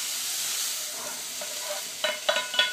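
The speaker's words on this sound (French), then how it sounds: "vous les faites revenir bien 3 minutes dans la poêle." Peppers, aubergines and courgettes sauté in a frying pan with a steady bright sizzling hiss, followed near the end by a few quick scrapes and taps of a utensil.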